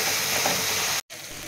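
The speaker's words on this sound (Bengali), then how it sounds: "বাগানের ডাঁটা দিয়ে মাছের ঝোল হচ্ছে।" Fish curry with garden stalks, ginger and chilli paste, cumin and turmeric cooks in a pan, giving a steady close sizzling hiss. The sound cuts out briefly for a moment, then resumes more softly.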